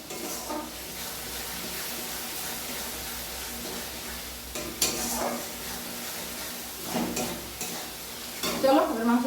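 Biryani masala frying in oil, stirred with a spoon: soft continuous sizzle with occasional louder scrapes and clinks against the pan near the end.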